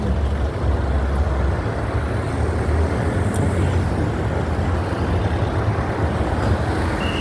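Road traffic rumbles steadily at a busy street crossing in the morning, with a passing car and heavier vehicles close by and a faint brake hiss, no voices.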